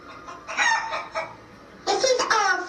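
A hen clucking in two loud, close bursts of throaty, rising calls separated by a short pause, with no other sounds around them.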